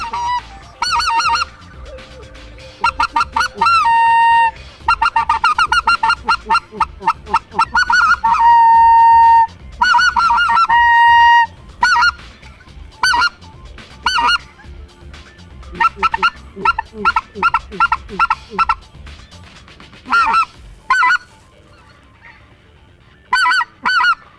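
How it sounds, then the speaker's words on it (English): Snow geese honk loudly in repeated bursts, several calls overlapping, with short pauses between flurries and a few scattered honks near the end. "Then a couple of snow geese showed up"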